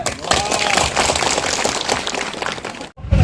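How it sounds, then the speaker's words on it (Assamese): A crowd at a ration card distribution event in Karbi Anglong claps together, producing dense, sustained applause that fills the clip before cutting off abruptly near the end. "সকলো হাত চাপৰি মাৰি দে একবাৰ।"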